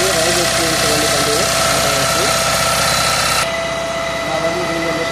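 A Tata Ace HT Plus BS6 diesel engine runs steadily through DPF regeneration, a close, dense mechanical drone with a flutter that eases and quiets slightly partway through, while a voice talks over it.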